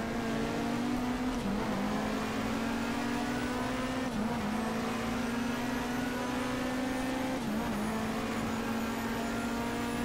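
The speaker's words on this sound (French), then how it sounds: "Et le moteur de la Nissan qui fait le taf." Nissan race car engine in the BTCC 1997 racing video game drones steadily at high revs, with brief dips at gear changes or braking, continuous and close, no voices.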